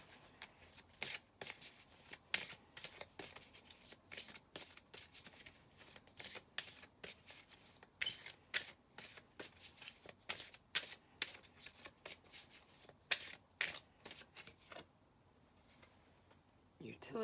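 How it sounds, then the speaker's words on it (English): Pick-a-card reading cards are shuffled steadily, with dense rapid riffling and soft slapping bursts carrying on for most of the stretch before thinning out near the end, with no talk over it. "I'm going to pull some more of these cards."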